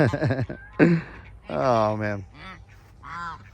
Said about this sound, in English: Old gray goose